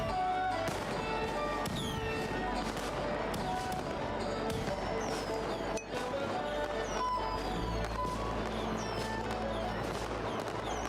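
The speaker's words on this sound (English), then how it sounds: "Will you do us the honor of lighting the fireworks?" Fireworks going off in The Division video game: a dense, continuous barrage of sharp crackles and bangs layered over a busy game soundscape, loud and unbroken throughout.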